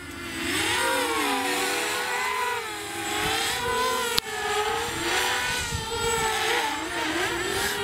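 Walkera Furious 320 GPS drone flying forward at full throttle, a loud, close whining buzz of propellers whose pitch rises and wavers as it speeds along, with a sharp click midway.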